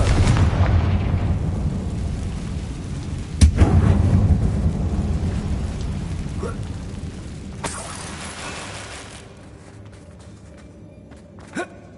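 Confringo fire spell explosion in the video game Hogwarts Legacy, set in a mine. Loud booming blasts and crackling rumbles, with a sharp burst near the middle and another later, fading into a lower rumble under occasional voice.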